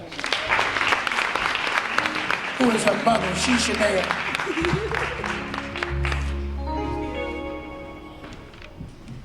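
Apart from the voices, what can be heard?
audience applause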